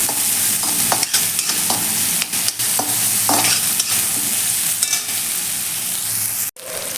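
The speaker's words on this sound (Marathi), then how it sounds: "आता कांदा आपण थोडासा लालचा रंगावरती भाजून घेऊया तेलावरती" Chopped onion frying in oil for a chickpea greens dish, a loud continuous sizzle with repeated scraping strokes of the stirring spoon and a brief break near the end.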